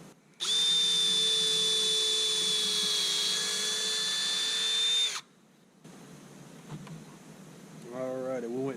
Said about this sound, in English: We'll drill a pilot hole through.